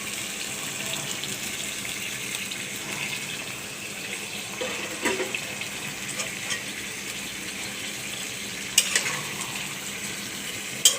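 Shrimp frying in a pan with boiled taro stolons, a continuous soft sizzle and watery hiss with a few louder spatters and light utensil knocks near the end, close by with no talking.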